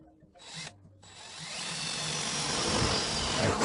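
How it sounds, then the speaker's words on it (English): A power drill bores holes through plastic pipe fittings being made into a dust collector, with a short burst, a brief pause, then a steady, loud grinding whir that builds and continues to the end. "go ahead and drill out the circle and then you can knock it out"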